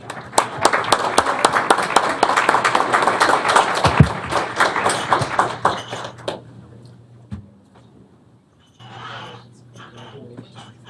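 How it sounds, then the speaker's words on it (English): Applause at a county board of education business meeting for a championship girls volleyball team, a crowd clapping loudly for about six seconds before fading out, followed by quieter room sounds and brief talk. "Another round of applause, please."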